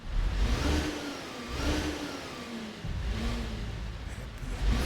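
A video game truck with a turbocharged V10 engine revs and accelerates through gear changes, a steady mid-pitched drone rising and falling, moderately loud with no talking.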